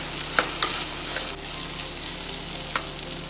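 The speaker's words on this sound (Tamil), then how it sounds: "சேர்த்துட்டு நல்லா வதக்கி விட்டுக்கோங்க. எண்ணெயிலே நல்லா வதங்கட்டும்." Black-eyed peas sautéing in oil in a pan for karamani kulambu, a soft continuous sizzle with a few sharp clicks of a spoon stirring, close and without talk.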